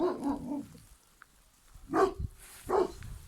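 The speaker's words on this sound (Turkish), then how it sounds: "Pars bir şeyi havlıyor ama neye havladığını anlayamadık" A dog barks in a few short bursts with pauses between them, at moderate distance, and there is quiet background in the gaps.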